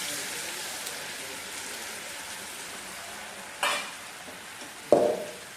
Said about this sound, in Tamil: இப்போ நம்ம அரைச்ச மசாலாவை ஃபில்டர் பண்ணி எடுத்துருக்கேன். அதை இதில் ஊற்றிக்கலாம்.